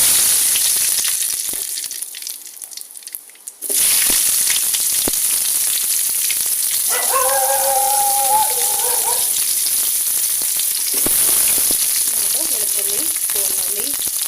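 Mustard seeds and curry leaves crackle and sizzle loudly in hot oil for a Kerala-style bitter gourd theeyal, a dense, steady frying hiss that briefly quiets near the start, then resumes strongly and continues to the end.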